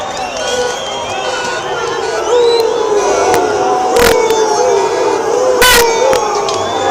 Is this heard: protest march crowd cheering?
yes